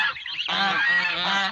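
Bar-headed geese honking, a brief loud nasal honk call close by, with no talk over it.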